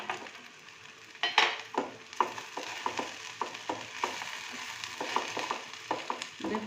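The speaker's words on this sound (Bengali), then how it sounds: "এবার দিয়ে দেবো এই ভাজা বাদামগুলো।" Fried peanuts are stirred into sizzling bread upma in a frying pan, with a steady run of clacking spoon strokes against the pan over a continuous frying hiss, close and moderately loud.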